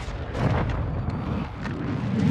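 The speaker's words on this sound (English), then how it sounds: "He probably just put the mortar on me and dipped." A mortar blast in a video game, heard as a loud, deep rumbling boom with rolling low-end that stays heavy for the full couple of seconds.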